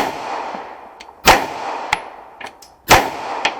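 Two loud, sharp pistol shots fitted with XS Sights DXT2 fired at targets, each with a ringing tail, plus fainter metallic clanks between them.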